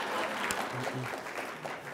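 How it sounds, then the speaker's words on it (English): Brief burst of audience applause following a talk at an implicit bias event, a short wash of clapping with a faint voice underneath. "Let's give him one more round of applause."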